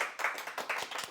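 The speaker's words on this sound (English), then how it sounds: "He's doing a clapping for him" A few people in an estate agency office clap for a colleague who signed up a new agent, a short burst of quick, uneven hand claps at moderate distance.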